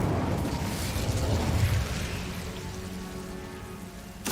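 An Incendio fire spell cast in Hogwarts Legacy erupts as a loud, dense burst of crackling flame and rumble, swelling for about two seconds, then fading into a softer fiery hiss with a sharp pop at the very end.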